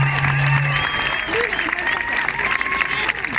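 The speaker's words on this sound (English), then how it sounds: "give a warm welcome, a round of applause and a whoop whoop for Evanna Lynch" Crowd at an animal rights march in London claps and whoops in welcome, a broad wash of outdoor applause with scattered cheers and whistles rising over it, loud and sustained.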